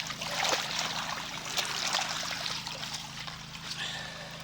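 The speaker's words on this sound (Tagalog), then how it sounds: "Ayan mga idol, nagpapatubig na ho tayo sa sitaw." Water from a hose runs steadily onto string bean plants in a dry farm field, a continuous close trickling and splashing rush with small fluctuations and no pauses.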